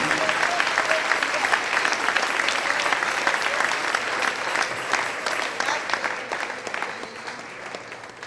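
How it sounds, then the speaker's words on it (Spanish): A church congregation applauds during a sermon, a dense, sustained burst of clapping that fills the space for several seconds and gradually thins out toward the end, with a few voices mixed in. "Dele ese aplauso al rey."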